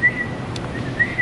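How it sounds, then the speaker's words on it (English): A young child whistles two brief, thin notes, one at the start and another about a second later, with a quiet room in between and no speech. "Are you just a whistling away?"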